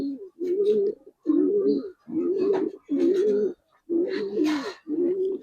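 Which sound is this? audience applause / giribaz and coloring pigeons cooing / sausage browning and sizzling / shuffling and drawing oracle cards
giribaz and coloring pigeons cooing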